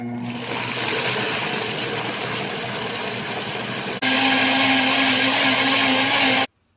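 A blender blending tofu and pineapple runs steadily, loud and close, with a brief break before the motor roars up to a higher, harsher pitch, then stops abruptly.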